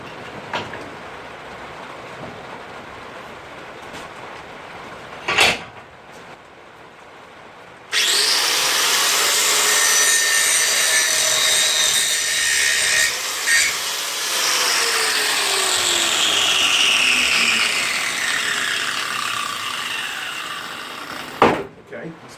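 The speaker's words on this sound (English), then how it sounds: "So it's time for a bit of grinding, I think." An angle grinder works on steel roof steelwork in a workshop, cutting in with a loud, harsh screech that runs for about thirteen seconds and shifts in tone as it bites, with a few knocks and clanks before and after.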